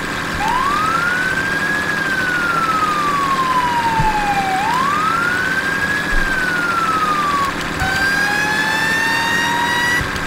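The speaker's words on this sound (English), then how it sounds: "I love the cue siren, though." A fire engine siren in the Farming Simulator 17 video game wails in two long rising-and-falling sweeps, then shifts to a faster, steadier tone over a constant engine hum, loud and close, with no talking.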